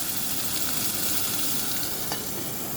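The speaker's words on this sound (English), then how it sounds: "And let it simmer like that for 10 minutes." Glazed chicken breasts simmer in a lidded pan on the stove, giving off a steady, close sizzle and crackle that stays even throughout with no talking.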